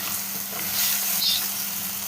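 Turmeric, chilli and coriander powders fry in a pan for Kerala-style fish curry, giving a loud, continuous close-up sizzle with a soft swell of stirring in the middle and no voices.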